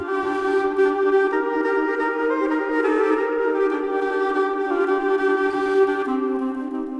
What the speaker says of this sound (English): play the aulos for the men, a double pipe that was used widely in the ancient Greek world